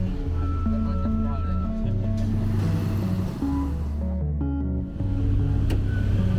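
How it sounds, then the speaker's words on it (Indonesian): Angkot minibus engines running on a busy Bogor street: a continuous low rumble and drone of idling and passing motors, fairly loud and steady, with traffic noise layered throughout. "Deru mesin angkot yang beroperasi"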